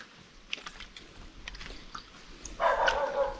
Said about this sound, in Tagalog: Ayun ang tindi ng tahol ng aso.